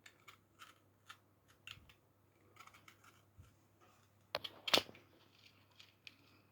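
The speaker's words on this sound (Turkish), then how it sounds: "Maket bıçağıyla kesiyorum." A utility knife slicing through orange peel in a quiet kitchen, giving soft, sparse scratchy cuts with a couple of sharper, louder snips near the end.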